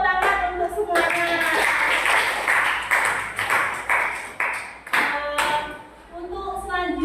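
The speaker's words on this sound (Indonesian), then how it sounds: "Tepuk tangan untuk semuanya" A classroom of students gives a scattered round of applause for all groups, with irregular clusters of hand claps and sharp taps mixed with tonal pings and voices, the claps rising and falling in uneven bursts.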